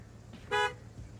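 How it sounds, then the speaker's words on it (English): A single short car horn toot sounds once, clear and fairly close, against a quiet background rumble. "Now honk your horn."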